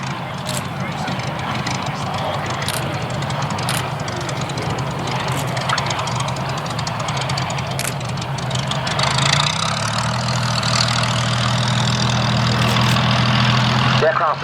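WWII Spitfire and Hurricane fighters taxi back in at Duxford, their piston engines idling and rumbling at a steady, fairly loud level, with a deeper engine drone building toward the end under continuous commentary.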